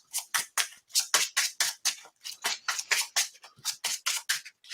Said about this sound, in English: and then we shuffle in our obligations